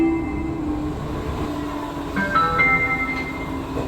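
A Metro 81-71 train runs on Prague metro line B with a loud, steady rumble of wheels and motors, and sustained whining tones rise partway through, close and continuous with no talking.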